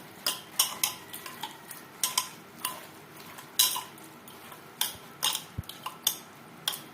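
Chopped onions are worked into mutton in a pot, with irregular clinks and clatters of utensil against metal, fairly close and quiet, amid soft rustling between the knocks.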